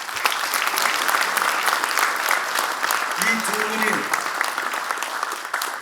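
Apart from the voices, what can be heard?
committee audience applause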